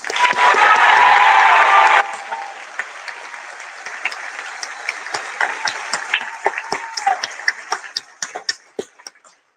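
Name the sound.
graduation audience cheering and applauding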